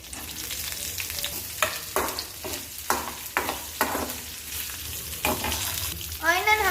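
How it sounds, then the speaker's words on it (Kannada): Onion and curry leaves dropped into hot oil with mint, garlic paste and green chilli sizzle loudly and steadily, broken by several sharp stirring scrapes and a brief higher crackle near the end. "ಆನಿಯನ್ ಹಾಕ್ತಿದ್ದೀನಿ, ಕರಿಬೇವು ಹಾಕ್ತಿದ್ದೀನಿ"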